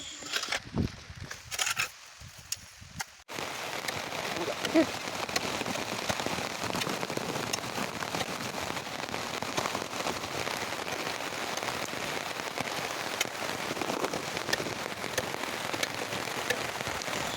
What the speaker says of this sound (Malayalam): മഴയും പെയ്തുകൊണ്ടിരിക്കുന്നുണ്ട്